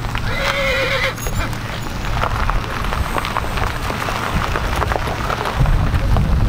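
Horses ridden on horseback arrive at a fifteenth-birthday celebration in El Jicote, Guadalcázar, San Luis Potosí. One whinnies near the start, then dense clip-clopping hooves continue loud and close under a steady outdoor din.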